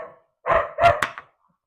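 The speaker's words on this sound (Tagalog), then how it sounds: "Matahol na may aso." A dog barks nearby, one short bark followed by a quick cluster of two or three sharp barks with brief silence between them.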